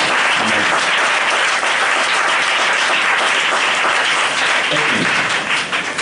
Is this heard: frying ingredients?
no